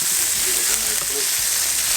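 A flipped burger patty sizzles in a pan with butter, a loud, close, continuous frying hiss that stays steady the whole time.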